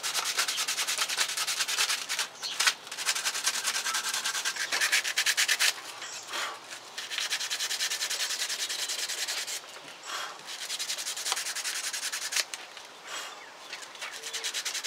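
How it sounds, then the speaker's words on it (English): A dried gourd is hand-sanded to remove mold, giving a steady close-up scratchy rubbing in repeated strokes with short pauses, alone and fairly loud. "I'm just trying to sand off some of the mold on it without sanding down all the nice little"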